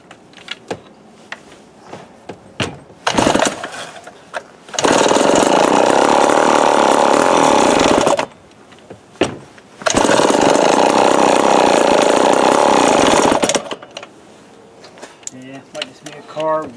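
A Remington Super 754 chainsaw with a cold-natured carburetor, running only on choke, roars loudly in two sustained bursts of several seconds each with a sputtering gap between them, while someone talks in the quieter stretches.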